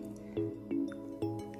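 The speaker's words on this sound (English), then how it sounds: "So we're going to pour in about a tablespoon of honey." Honey is poured into green tea for a facial toner and falls with a few soft, sticky drips and squishes, quiet and close up.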